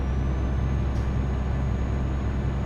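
Truck in Euro Truck Simulator 2 gives a loud, steady broadband engine and road drone with a faint high whine and a short hiss partway through, no talking.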